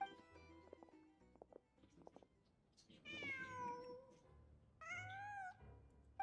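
A cat in the video game Genshin Impact meows twice, in clear, drawn-out calls. Faint scattered clicks and soft game sounds come before the meows.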